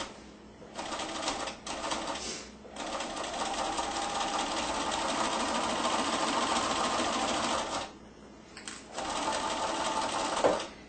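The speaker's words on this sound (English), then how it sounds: "I'm just going to sew this armhole" A home sewing machine runs steadily while stitching a dress armhole, a loud continuous whirring hum near the microphone that stops briefly twice before starting up again.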